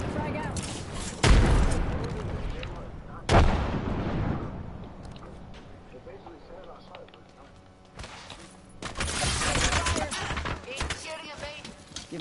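Gunfire and explosive blasts in Apex Legends, with two heavy impacts early on, scattered shots between them and a denser volley of fire near the end, heard alongside speech.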